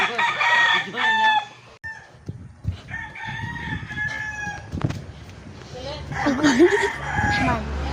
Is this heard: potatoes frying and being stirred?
no